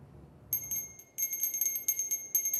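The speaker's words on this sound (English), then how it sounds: "The ringing of the bells is a common sound heard at the end of the year." A Salvation Army red kettle hand bell rings in quick repeated jingling bursts, bright and fairly clear against quiet outdoor background, with short gaps between shakes.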